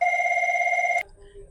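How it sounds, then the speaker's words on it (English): A telephone bell rings steadily for about a second, loud and close, then cuts off abruptly, leaving a faint low room murmur. "Got a phone call."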